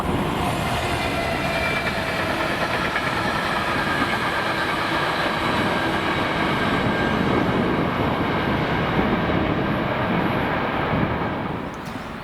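A Class 66 diesel locomotive (66056) hauling an engineers train rumbles past steadily and loudly for a long stretch in Scotland, with a constant engine drone and faint rail noise, fading slightly at the end.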